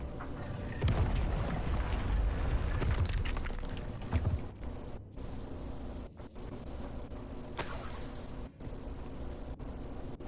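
A Confringo explosion spell cast in the video game Hogwarts Legacy, giving a loud booming blast that rumbles for a few seconds and then settles into a sustained crackling roar with scattered pops.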